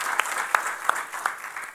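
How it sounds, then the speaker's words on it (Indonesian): A church congregation at a service claps, dense applause with a few sharper claps standing out at a regular beat, close and moderately loud, with no voices. "Kita beri tepuk tangan dulu buat Tuhan Yesus."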